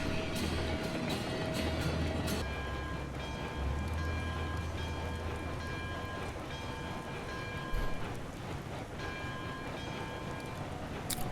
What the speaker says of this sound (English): So yeah, we'll take this locomotive and this train home,